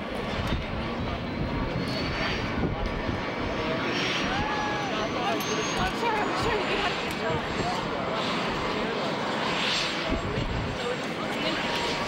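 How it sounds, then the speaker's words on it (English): Aircraft engines start up on the flight line at the 1989 farewell ceremony for President and Nancy Reagan, a loud, continuous roar with a rising whine that holds for the whole stretch, with voices talking faintly underneath. "As the aircraft engines start, for your own personal safety, please step away from the line."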